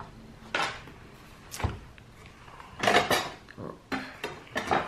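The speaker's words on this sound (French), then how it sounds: "C'est une règle en métal, ça fait du bruit. Chaque fois qu'on cogne dedans." Several sharp metallic knocks and clatters from a metal ruler at irregular intervals, close by, with quieter handling noises in between, while crafting a paper mini pop-up album.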